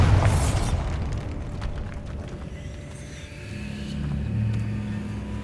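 A Bombarda spell blast in Hogwarts Legacy opens with a sharp burst and rolls on as a deep, low rumble that settles into a steady hum.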